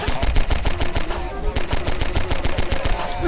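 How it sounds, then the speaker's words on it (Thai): Rapid automatic gunfire from a weapon in the video game Garry's Mod, a steady stream of loud, evenly spaced shots with a brief gap midway, close and dominant with no talk. "เริ่มจากเอาปืนนี้ยิง"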